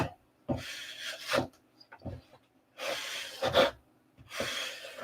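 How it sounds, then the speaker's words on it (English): A sanding block rubs around a corner, likely on aircraft work, in three rasping bursts of back-and-forth strokes separated by short pauses, close and moderately loud, with no talking. "You keep the sanding block flat, and you want to go around the corner like this."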